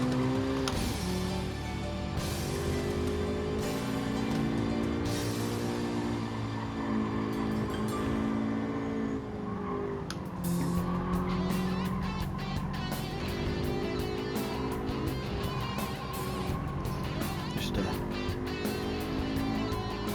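Race car engine from Gran Turismo 7 holding a steady, loud drone with shifting pitch while cornering, with no one speaking.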